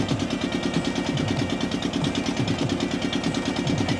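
A boat engine runs steadily on a river at a ghat near the India–Bangladesh border, a loud close drone with a regular low chugging pulse throughout and no talking.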